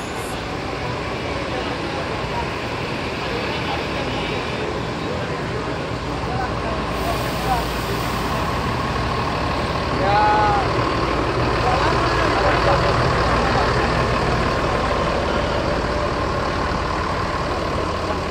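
Spalala intercity bus on a Laksana SR2 series body idling while its engine warms up before a trip to Solok, a steady low rumble with a brief hiss partway through.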